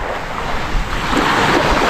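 Sea waves on the coast at Bolinao, Pangasinan wash in as a loud, steady rush of surf mixed with heavy wind buffeting the microphone.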